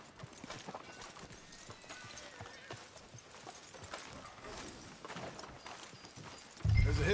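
Horse hooves clip-clopping in Red Dead Redemption 2, a steady run of close hoof beats over ambient background, with a louder thump at the very end.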